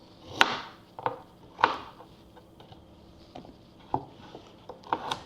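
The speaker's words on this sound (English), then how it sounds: "Just loosely chop it." A knife chops vegetables on a cutting board in irregular, distinct thuds, a few louder strikes standing out against a quiet kitchen background, with no speech.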